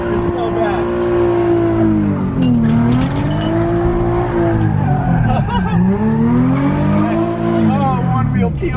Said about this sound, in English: Oh, it's one wheel peeling, so we're gonna have to go this way.